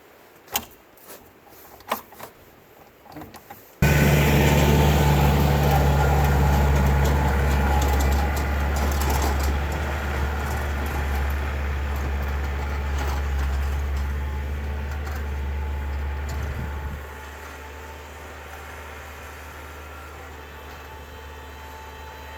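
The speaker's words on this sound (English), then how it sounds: "Okay, well I just tried the snowblower" At a cabin during a blizzard, a few scattered clicks and knocks come before a snowblower engine roars to life. It then runs loud and steady up close, its low drone dropping in pitch and settling partway through.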